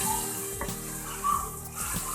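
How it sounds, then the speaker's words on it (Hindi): Water being poured into a potato pakora mixture, a soft running pour under a faint kitchen hum, brief and close, with no talk. "हम इसमें पानी ऐड करेंगे।"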